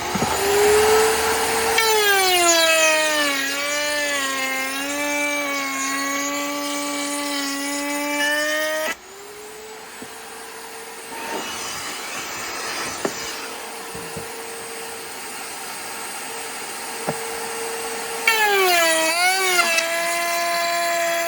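Router with a half-inch straight bit cuts a tongue and groove joint in wood: a loud high motor whine that drops in pitch under load, then quieter cutting noise, and the whine returns near the end.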